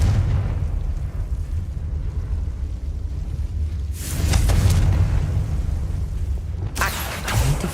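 Fiery Confringo blast spells burst in the game Hogwarts Legacy, two sharp crackling explosions over a low, rumbling ambient drone.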